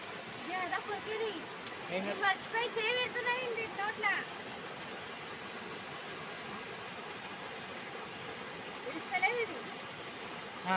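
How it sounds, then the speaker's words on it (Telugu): A hill stream's water runs and splashes in a steady rushing flow, with voices talking over it now and then during fishing. "నీళ్లు పారుతున్నాయి కదా"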